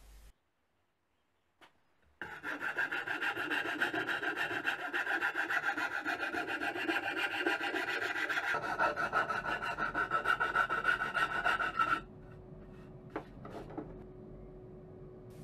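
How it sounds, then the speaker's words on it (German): A metal file rasps steadily back and forth across the wood of a birdhouse, a continuous scraping rub that lasts about ten seconds, then a few light knocks. "Die Feinarbeit erfolgt mit der Feile."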